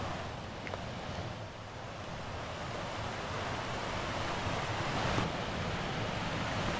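Water cascades over rocks and into pools along the Quarryman's trail waterfall walk from Nant Gwernol Station, a steady, even rush of broadband noise that holds constant throughout with no voices.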